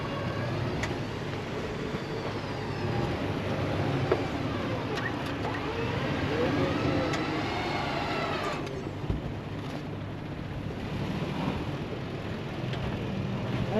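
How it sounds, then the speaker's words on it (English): A truck in four-wheel drive creeps forward on a steep mountainside while stuck and sliding: a continuous, loud engine and drivetrain rumble with grinding texture, steady throughout and close by. "Put it in four-wheel drive. Okay, come forward, Greg."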